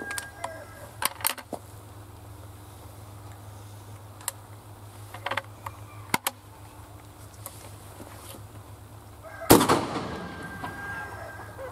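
An 1873 Trapdoor Springfield fires a shotgun load outdoors at a target about 40 feet away: one sharp, loud blast near the end, after a stretch of quiet clicks and handling noises.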